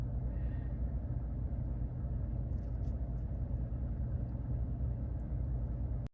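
A Chevrolet Silverado or GMC Sierra truck engine idling, a steady low rumble close by with faint clicks, cutting off abruptly at the end.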